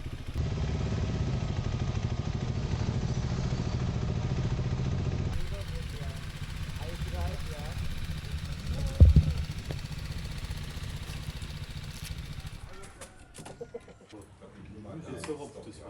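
Motorcycles rolling into Riung on Flores and being parked: a steady low engine rumble for several seconds that then drops away, followed by clatter, a sharp knock and nearby chickens and birds.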